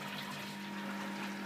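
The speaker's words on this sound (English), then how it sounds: "So there it is, water's coming up." Water fills a homebrewing vessel toward a 6-gallon mark for an all-grain batch, a steady, continuous rushing and gurgling flow at even loudness throughout, with no talking.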